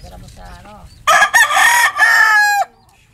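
A fighting cock crows loudly and close by in one long, strained call with a brief break partway through, after softer clucking and bird sounds.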